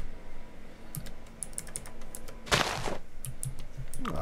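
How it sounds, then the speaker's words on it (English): Typing on a computer keyboard during a Minecraft LAN party session, a run of quick key clicks with a louder burst of rapid keystrokes midway, close and fairly clear over low background noise. "it's like I forgot how to type"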